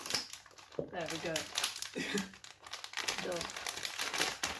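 Plastic packet of Japanese marshmallow snacks crinkling and rustling as someone struggles to open it, close and fairly quiet, with a person talking over the sound.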